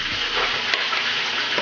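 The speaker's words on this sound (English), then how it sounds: "put some of the callaloo in this pot" Callaloo greens dropped into a hot pot sizzle loudly and continuously at close range, a dense frying hiss with faint stirring, for a stuffed red snapper dish.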